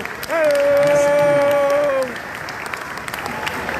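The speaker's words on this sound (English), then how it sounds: "Give them a round of applause, because without them, there would be nobody." Festival crowd applauding a polka band at a Polish American fair, a steady wash of clapping throughout while a held voice-like tone rings out early and then drops away, with cheering mixed in.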